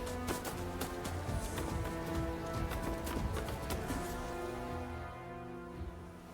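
A horse's hooves clip-clop at a quick, steady trot in a samurai video game heading toward Edo Castle, with continuous close hoofbeats over music that thin out near the end.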